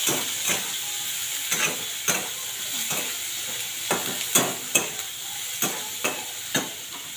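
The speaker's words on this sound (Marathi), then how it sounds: "त्याच्यामध्ये आपण चिरलेला कांदा टाकून देऊ. कांदा देखील चांगल्या पद्धतीने भाजून घ्यावा." Chopped onion frying with peanuts in a hot pan, a constant sizzle broken by sharp, regular scrapes of a spatula stirring roughly every half second to second, close up and moderately loud, with no speech.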